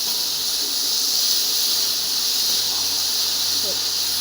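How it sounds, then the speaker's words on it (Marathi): Spice tempering crackling in hot oil for a rustic village vegetable dish, a steady close hiss and sizzle with a few faint squeaky pops, no clear voices. "छान मस्त तडका झालेला आहे"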